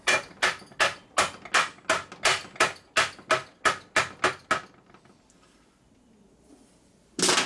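A hammer strikes a metal engine case in a quick, even series of about fifteen sharp taps, then stops, with one more loud hit at the end.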